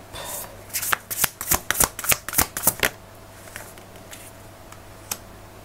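A tarot deck being shuffled close up, about nine or ten sharp riffling card slaps in quick rhythm over two seconds, then quieter faint card handling and a single soft tap as a card is drawn.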